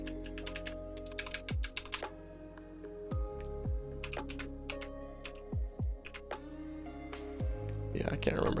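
Numbers being typed on a computer keyboard, with quick clusters of light clicks in a few short bursts under steady tonal game sounds.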